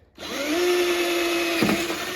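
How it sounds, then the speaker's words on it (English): A power drill bores out rivets on a Rox snowmobile sled tread of a 2003 Yamaha Viper 700. The motor whines up loud and steady, with a brief bite partway through, then keeps spinning. "I'll drill those out now and show you"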